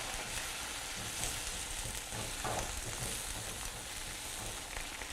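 Eggs frying and being scrambled in a hot pan for a breakfast, with a steady close sizzle and sputter under soft scraping and stirring strokes, no talking.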